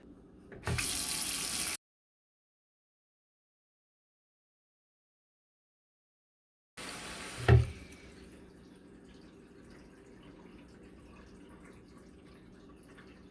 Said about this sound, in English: I'm going to fill up the sink so you can see that the sink starts to fill up